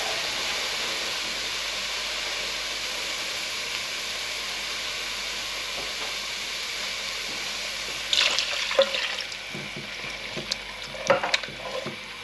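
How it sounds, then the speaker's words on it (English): Tap water runs into an emptied tin of chopped tomatoes while a beef chilli cooks, a steady broadband rush for about eight seconds before splashing and clinking get louder near the end, with no talk. "I'm just going to fill that tin up with water"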